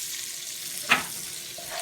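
Sausage frying in a pan for stir-fried rice gives a low, steady sizzle, with one sharp clatter partway through and a faint rising tone near the end; no one speaks.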